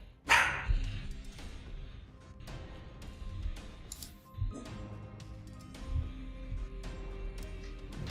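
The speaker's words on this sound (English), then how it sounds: "Dog's angry." A dog barks angrily in a few sharp, separate bursts, one loud near bark at the start and later ones spread over several seconds, over a steady background hum.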